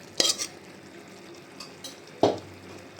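Cooked chicken is tipped into a pot of khichuri. A spoon makes a few sharp metallic clanks and scrapes against the pot over a faint, steady background.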